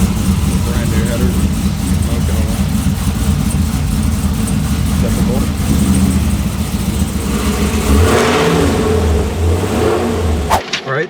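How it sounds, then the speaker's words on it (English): A 2014 Chevy SS V8 with a full cam package and Cook headers rumbles loudly with a choppy lope, rising in a rev near the end before dropping off sharply. "this is a 2014 Chevy SS. It got just a full cam package. And we put on Cook's headers"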